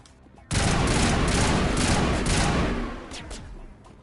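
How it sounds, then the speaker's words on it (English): Shotgun fire from the video game Mass Effect, a loud, dense barrage that bursts in after a brief quiet moment and roars almost continuously for several seconds before easing slightly toward the end. "It's a freaking shotgun that he uses."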